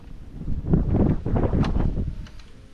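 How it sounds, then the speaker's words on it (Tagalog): Wind gusts buffet the microphone outside a rural hut in bad weather, a low rumbling roar that swells and fades over a few seconds. "Ang hangin po mga kalayas."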